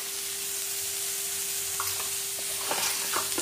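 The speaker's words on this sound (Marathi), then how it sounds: "एका कढईत भेंडी भाजायला, एका कढईत टोमॅटो कांदा घेवायला लागलाय भाजायला" Okra roasting in one pan while tomato and onion roast in another sizzle in a steady hiss, with a few scraping stirs near the end.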